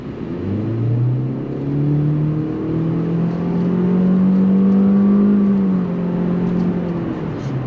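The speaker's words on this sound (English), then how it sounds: "let's do an acceleration test" A 2021 Toyota C-HR, a low-powered front-wheel-drive crossover, accelerating at full throttle from inside the cabin: a droning engine note rises steadily through a gear change and keeps climbing, loud and continuous.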